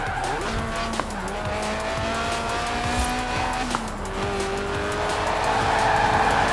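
A tuned, stripped-out Lotus Elise Sport 190 with a 1.8-litre engine revving to 8,000 RPM drones and shifts as it drives in Forza Horizon 4, engine pitch rising and falling with faint tyre squeal.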